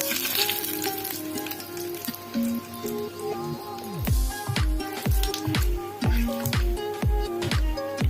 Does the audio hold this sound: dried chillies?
yes